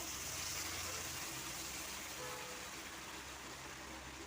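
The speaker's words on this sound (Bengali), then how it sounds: "আস্তে আস্তে জলটা ঢালবো যাতে খোসাগুলো না চলে যায়" Mustard-paste water is poured slowly into a pan of spiced potatoes, a soft, continuous gushing pour heard quietly throughout.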